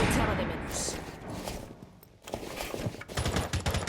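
Rainbow Six Siege players trading shots during a competitive round, quick bursts of gunfire, moderately loud and fairly close, broken by a short lull, with commentary voices in the mix.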